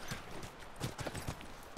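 Horses clip-clopping in The Last of Us Remastered, a short run of faint, soft hoof knocks in an uneven rhythm over low background noise.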